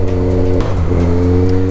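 A Suzuki GSX650F motorcycle engine holds a loud, steady droning note close by, with a brief dip and shift in pitch partway through before settling back into the strong hum.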